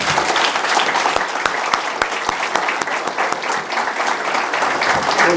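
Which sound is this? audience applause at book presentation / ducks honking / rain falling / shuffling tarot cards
audience applause at book presentation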